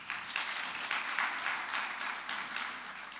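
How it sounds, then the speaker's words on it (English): Faint applause from an audience welcoming guests at an annual law society symposium, a brief, soft, even patter of clapping heard from a distance. "A round of applause to our guests."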